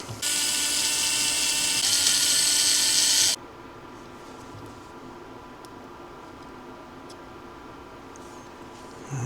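Loosening and pulling an A block off an aluminum DC10 RC car suspension arm, with a fast, loud ratcheting buzz from a ratchet tool for about three seconds, then faint clicks and handling noises.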